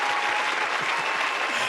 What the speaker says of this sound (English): I only put that clap there as a filler